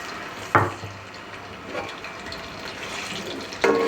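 Sliced onions drop into hot oil for beef yakhni pulao with a sudden splash of sizzle, then a softer, continuous frying hiss, and another sharp burst of sizzling near the end.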